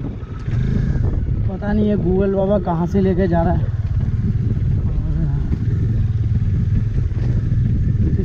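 A motorbike rides along a road through a tea estate in Meghalaya after heavy rain, its steady engine drone and wind rush running throughout beneath someone talking.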